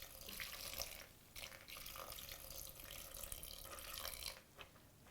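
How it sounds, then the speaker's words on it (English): Water is poured into a pot of dried beans, a steady splashing pour with brief pauses and bubbling, close and fairly quiet, with no voices. "You just pour the water in until it just barely covers the beans."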